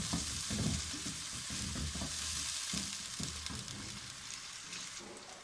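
Onions fry lightly in a pan with a soft, steady sizzle, broken by repeated scraping stirs of a spoon, close up and moderately quiet with no talking.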